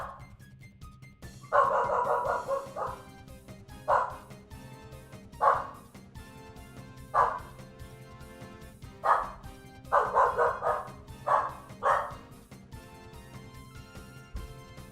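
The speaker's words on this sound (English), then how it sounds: "Noisy doggies." Household dogs, including a newly adopted and wary one, bark indoors in bursts: a rapid flurry early on, then single sharp barks every second or two, with a busier cluster near the end, over a steady low hum.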